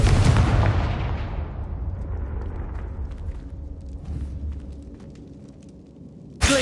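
A Confringo spell blast in the Hogwarts Legacy video game, a loud booming explosion that rumbles and fades over several seconds, followed by a sudden sharp burst at the end.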